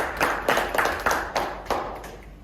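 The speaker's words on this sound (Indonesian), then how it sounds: "Sekali lagi kita berikan tepuk tangan kepada saudara W.R." A few people in an audience clap in sparse, uneven rounds, about six distinct bursts of hand claps close by that fade between beats and thin out toward the end.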